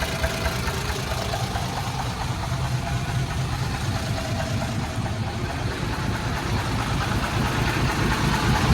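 Freshly rebuilt Hino truck diesel engine idling steadily, a continuous close rumbling knock with even vibration throughout, no voices.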